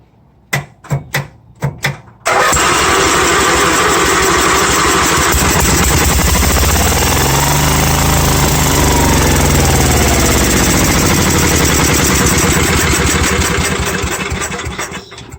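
A Lincoln welder's gas engine, its carburetor primed with fuel, cranks in a few sharp bursts, then catches and runs at a loud, steady roar that fades slightly at the end.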